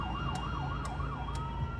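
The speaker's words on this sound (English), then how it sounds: "Now the ambulance is here, they need to get Patrick to hospital as quickly as possible." Ambulance siren from a West Midlands ambulance arriving on scene, a wailing tone sweeping up and down repeatedly, moderately distant, over low road and engine rumble with brief sharp clicks, no talk.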